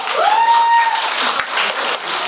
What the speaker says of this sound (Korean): 여러분, 박수 보내주세요.